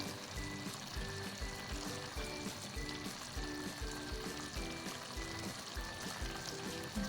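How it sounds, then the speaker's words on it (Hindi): Water simmering in a pot for beef yakhni pulao, a steady close bubbling and gurgling wash with soft rhythmic pulses running the whole time, no voices. "बबल्स आना शुरू हो गए हैं, ये देखिए बबल्स आना शुरू हो गए हैं।"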